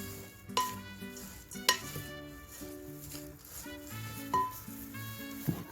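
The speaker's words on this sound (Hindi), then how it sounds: "ये मखाने डाल लीजिए और इनको भी इनमें अच्छी तरह से मिक्स कर लीजिए" Makhana being stirred into a panjiri mixture in a pan, with a few sharp clinks of a spoon against metal between quieter scraping strokes, close by and without speech.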